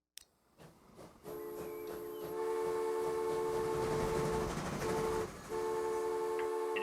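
A freight train hauling coal in Transport Fever 2 rolls along with a rumbling engine, while sustained horn or whistle tones sound steadily, one briefly pausing before resuming.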